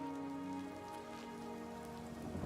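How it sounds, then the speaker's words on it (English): Rain pours in the video game Oblivion Remastered, a steady, soft patter of raindrops on surfaces under a low constant hum. "In the rain, no less."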